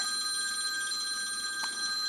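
A phone rings continuously with a bright, steady electronic trill, fairly close and alone.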